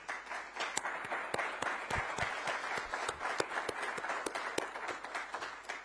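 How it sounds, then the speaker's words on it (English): Audience applause at a forum on second-chance hiring, a steady wash of many hands clapping at moderate distance with no talking, lasting the whole stretch at an even level. "thanks, I didn't have to ask for the applause."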